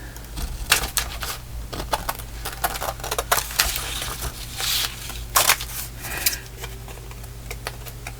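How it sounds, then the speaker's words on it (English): Long scissors snip through card stock for a handmade Christmas shaker card, a series of sharp close crisp cuts and clicks in an irregular rhythm, with no voices. "I like to use my longer scissors when it's a long straight edge"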